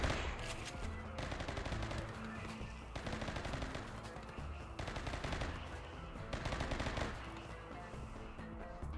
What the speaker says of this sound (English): How about we shoot the one that's closing in on us?